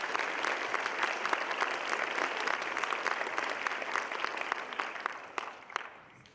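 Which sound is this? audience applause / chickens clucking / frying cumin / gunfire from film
audience applause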